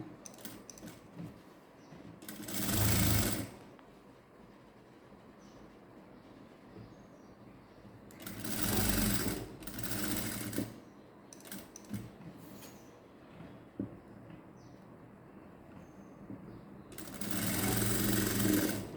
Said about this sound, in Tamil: கரெக்டாக பின் பண்ணிவிட்டு ஒரு தையல் போட்டுருங்க